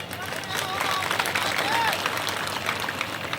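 Audience applause from a crowd at a public speech in Mewar, India, a dense steady wash of clapping that swells and holds, with murmuring voices underneath.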